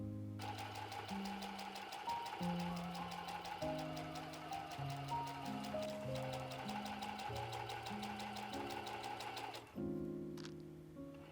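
Sewing machine stitching a bag made from woven fabric selvedge, a steady mechanical whir that runs almost continuously for about ten seconds at moderate volume, pausing briefly near the end before starting again.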